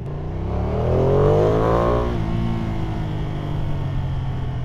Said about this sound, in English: Stock exhaust, it's definitely got a nice grunt to it. A nice growl when you start getting on the throttle.